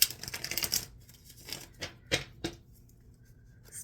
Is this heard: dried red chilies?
no